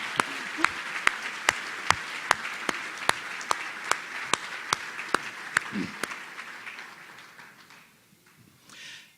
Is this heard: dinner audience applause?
yes